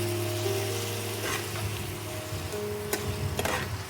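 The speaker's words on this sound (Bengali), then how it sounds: "দিয়ে এইটাকে আমি আবার কষাবো" Chhana and potol sautéing in a pan with turmeric and a splash of water, giving a continuous close sizzle with a few sharp stirring scrapes and clicks.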